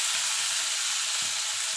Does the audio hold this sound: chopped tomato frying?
yes